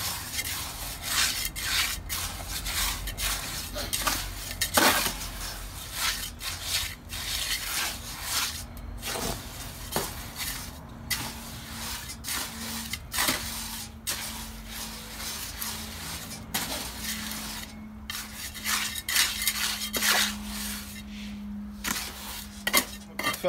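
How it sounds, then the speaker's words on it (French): Concrete mix for a homemade atlas stone being stirred, with repeated gritty scraping and knocking of the tool against the container, moderately quiet and continuous, with no voices. "il faut mélanger tout pour que ça soit bien réparti"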